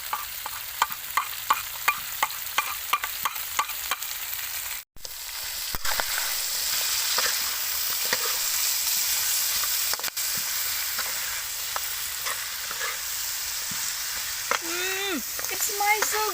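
Chicken legs fry with garlic as chili and green onion go in, a steady sizzle with repeated stirring clicks and scrapes, a sudden brief break, then louder frying with a few faint vocal sounds near the end.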